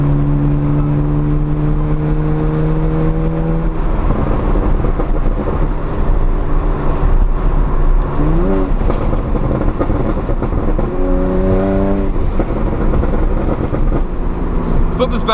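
Catless BMW 135i with the N54 engine and inlets making a full-throttle acceleration pull, heard loud from inside the car as the engine drone climbs in pitch, drops at each shift, then climbs again.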